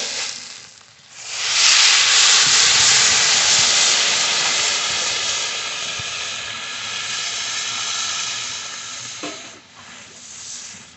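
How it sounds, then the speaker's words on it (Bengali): Water being poured into a pot of rice, dal and vegetables for khichuri gives a loud, steady rushing splash. It starts after a second, holds for most of the clip, then eases near the end. "সব সবজি চাল ডাল সব দিয়ে দিয়েছি, এবার জল দিয়ে দেবো।"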